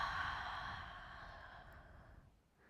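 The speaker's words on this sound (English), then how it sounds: "Take an exhale." A single long, quiet exhale during a yoga class, a soft breathy sigh that fades out over a couple of seconds with no talking.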